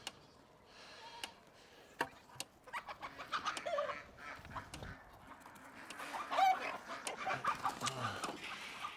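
Farmyard hens and roosters cluck and call intermittently at moderate distance on a farm, with sharp ticking clicks scattered through and a busier burst of clucking in the middle, no speech.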